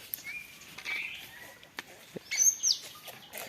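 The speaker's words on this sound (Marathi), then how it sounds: "हे बघा ह्या झाडावरती पण आहेत चांबार पाखरं" Faint bird chirps and brief calls outdoors in trees in the Konkan countryside, with a sharper high tweet near the middle, over quiet background noise.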